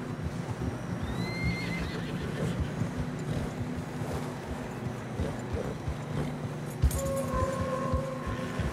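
Horses in Red Dead Redemption 2 whinny and snort over trotting hooves through fresh snow, with wind noise throughout and a brief sharp knock late on.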